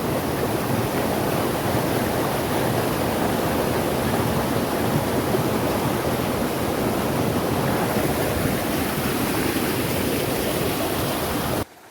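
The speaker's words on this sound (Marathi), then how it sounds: "पावसामध्ये नदीला पाणी बघा किती आलेलं आहे भरपूर सारं पाणी वरून वाहत येत आहे" Swollen monsoon river in a Kokan village, Maharashtra, pouring down through culverts beneath a road, a dense, steady roar of rushing water filling the whole clip at constant loudness before cutting off abruptly at the end.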